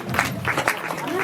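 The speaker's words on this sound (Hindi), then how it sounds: "लिए भी जोरदार तालियां हो।" An audience at a Bharia community social meeting in Bilanda claps to welcome a guest onto the stage, a short burst of close, uneven clapping with a voice briefly audible over it.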